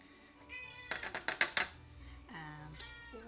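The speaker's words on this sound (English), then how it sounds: "My cat's wanting to get involved today." A pet cat meows near the microphone during a craft session, drawn-out tonal cries at the start and end, with a quick run of tapping or dabbing knocks in between and soft talk.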